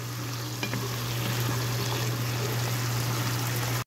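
Fish sauce (patis) toasting and sizzling in a hot pan at the start of a squash and string bean dish: a steady, close frying hiss with a low hum underneath, running unbroken with no talk.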